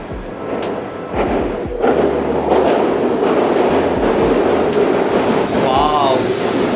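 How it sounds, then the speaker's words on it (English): A Shinkansen bullet train at a station platform gives off a steady low rumble and hum with some clanks and clicks, heard over busy station background noise, with a brief chime-like tone near the end. "Wow, look at this train."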